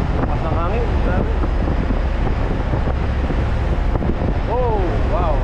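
Strong wind at sea roars constantly into the microphone around a boat, loud and buffeting, with waves and engine rumble beneath and voices calling out briefly over it.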